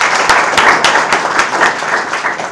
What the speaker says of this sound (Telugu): ఇప్పుడు మీరు క్లాప్స్ కొట్టాలి.